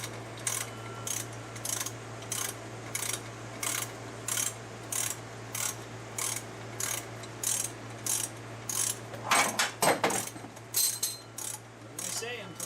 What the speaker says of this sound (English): So I kind of started loosening this bolt down here, and you can see already that the whole bracket is loose.